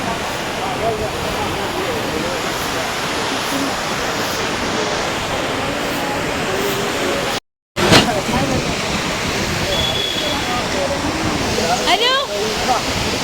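The Courtallam waterfall near Tenkasi roars in a dense, steady wash of falling water from close by, with people talking faintly under it and a brief dropout midway.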